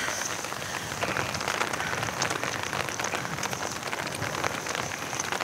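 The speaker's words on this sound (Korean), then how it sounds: "비가 아니고 우박이 떨어져요." Hail pelts down on a high Andes mountain trail at about 4,300 metres, a dense, steady patter of many small impacts close by, continuous for several seconds with no voices.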